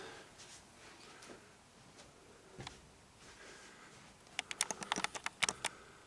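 Brief clicking bursts of a computer keyboard being typed on, faint scattered taps at first, then a quick run of sharp, close keystrokes near the end.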